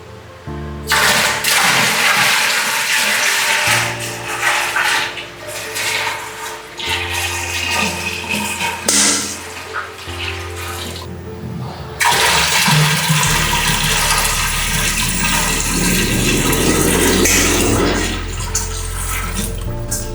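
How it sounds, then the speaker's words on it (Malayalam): Water is poured in stages into a pot for a homemade herbal pain-relief oil, with loud splashing gushes close by and short pauses between pours, over a low steady hum. "വെള്ളം ഒഴിച്ചു കഴിഞ്ഞു"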